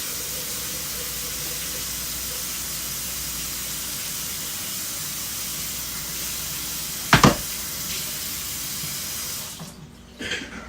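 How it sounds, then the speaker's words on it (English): Water pours steadily from a pot of cooking food during a shrimp fried rice and vegetables meal, a continuous splashing hiss with a brief clatter near the end before the flow stops. "I'm just draining all of this water off of here."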